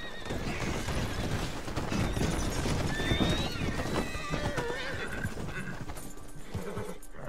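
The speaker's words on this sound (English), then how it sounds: "Hey, this horse still works." A horse in the video game Red Dead Online whinnies over steady clip-clopping hooves, the neigh rising clearly above a busy, rumbling ride with faint voices.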